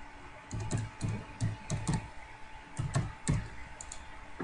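Fingers typing a login ID on a computer keyboard, a close run of quick key clicks in short uneven bursts with brief pauses between groups.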